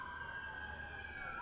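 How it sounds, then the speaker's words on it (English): An ambulance siren passes along a street near a baseball game, a steady wailing tone heard faintly at a distance, sliding gently in pitch without any talk over it. "the sirens go by on 21st"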